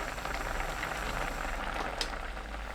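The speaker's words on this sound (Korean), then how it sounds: "1분 끓여주세요." A pot of king oyster mushroom, tofu and perilla-seed braise simmers steadily, giving a soft, even bubbling hiss that runs throughout at low level with no voices.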